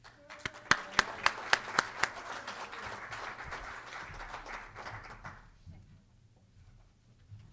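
A graduation audience applauds a newly introduced class president, opening with a few sharp individual claps before swelling into sustained crowd clapping that fades out after about five seconds, leaving quiet room noise.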